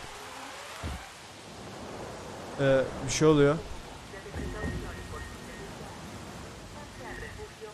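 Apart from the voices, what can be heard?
rain in the video game Jurassic World Evolution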